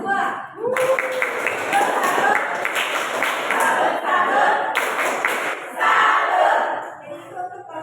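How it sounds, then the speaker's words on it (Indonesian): Students in a classroom applaud and cheer for a presenting group, with quick bursts of clapping and shouting that come and go in rhythmic waves over several seconds. "sekarang berikan tepuk tangan dulu untuk kelompok 2"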